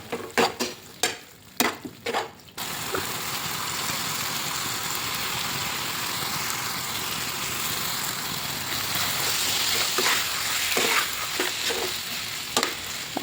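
Ground masala paste with salt fries in a pan for a sprouted chickpea palya, opening with a few sharp spoon clanks, then a loud, steady oil sizzle with occasional scrapes of stirring near the end.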